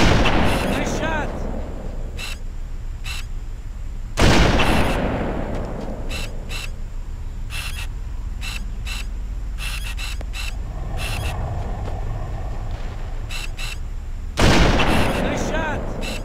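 Weapon fire in the Halo: Combat Evolved campaign, two heavy booming blasts spaced well apart amid a string of sharp rapid shots over a steady low rumble, with voices speaking intermittently.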